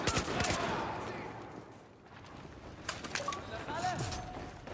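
Gunfire in the video game Battlefield 4, a dense burst of rapid shots and clattering impacts that fades, then resumes with scattered shots alongside faint voices.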